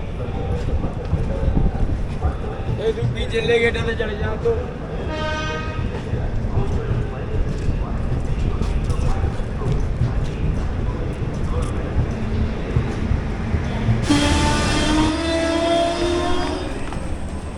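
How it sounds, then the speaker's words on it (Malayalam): A train rolls into the neighbouring platform at Kazipet Junction, a steady loud rumble of wheels and wind filling the station, with a rising tonal squeal or horn-like whine near the end. "മറ്റേ ട്രെയിൻ നമ്മുടെ തൊട്ടടുത്ത പ്ലാറ്റ്ഫോമിൽ കയറി വരുന്നുണ്ട്"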